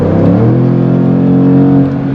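A 550 HP Jaguar engine accelerates hard, a loud, steady, close-up growl with rising harmonic tones that holds strong for about two seconds without pause.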